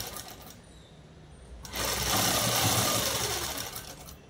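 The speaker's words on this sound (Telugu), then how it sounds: "ఇంకా నేనైతే ఇంకా కుట్టే వేస్తున్నాను" Sewing machine stitching along the hem of a long frock made from a saree, a steady continuous whir that starts softer, then runs louder and fuller after a brief pause, close and alone with no talk.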